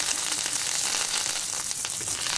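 Curry leaves crackle and hiss in hot oil in a pan while a thuvaiyal base is being tempered, a dense, steady high sizzle that stays loud and close for a couple of seconds.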